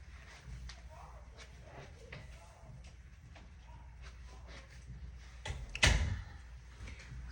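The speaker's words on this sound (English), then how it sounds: "Let me shut the door." A door is shut with a single firm thud near the end, preceded by quiet indoor shuffling and faint background noise.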